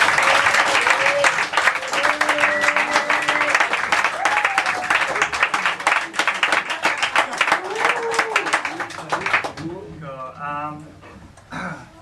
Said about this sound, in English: can everybody give a round of applause for Mr.